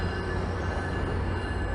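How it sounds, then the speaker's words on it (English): Via Rail train at Toronto Union Station, a steady, loud rumble of rolling railcars with a continuous metallic wheel hum and faint squeal, heard without voices. "And there's the Via train"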